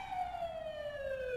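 An ambulance siren in the video game The Coma: Cutting Class wails steadily, a single clear tone slowly falling in pitch, loud and close with no talk over it.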